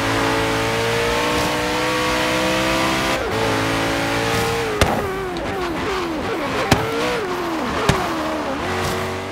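A car tearing down a straight in Forza Horizon 3, engine roaring loud and steady with rising and shifting pitch, gear changes breaking the drone, and a few sharp knocks along the way.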